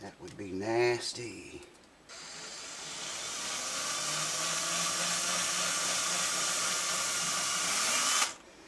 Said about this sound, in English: I'm gonna drill up to the tape, up to where the tape touches the wood